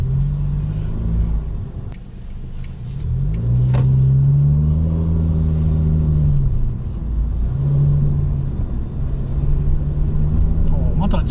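A blue 2003-era Honda Fit RS descends a winding mountain pass. The engine drones close and steady, its pitch rising and falling through gear changes, with voices talking inside the car.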